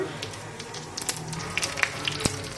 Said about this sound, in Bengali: তেল গরম হয়ে গেছে তেলে শুকনো লঙ্কা একটা দিয়ে দিচ্ছি গোটা জিরে দিয়ে দিচ্ছি